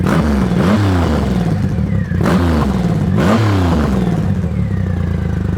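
A Triumph Rocket 3 Touring's 2300cc three-cylinder engine revs hard, rising and falling in three or four sharp throttle blips over a steady loud idle, heard up close with no talking.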